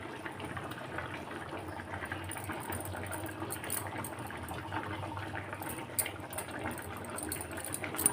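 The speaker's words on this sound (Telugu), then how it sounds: "బాగా ఉడుకుతుంది" Fish curry bubbles in a pot on the stove, a faint, steady simmering hiss with soft popping and occasional brief clinks.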